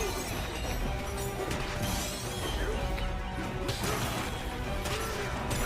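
Smashing and crashing effects from a Donkey Kong game on Nintendo Switch 2 form a busy, continuous stream of impacts and debris over game music.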